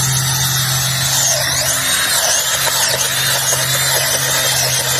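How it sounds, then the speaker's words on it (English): A power drill whirs steadily with a constant motor hum and gritty grinding as it bores a pilot hole into hard garden soil beside okra plants, loud and close throughout. "So I'm going to drill 2 pilot holes per plant."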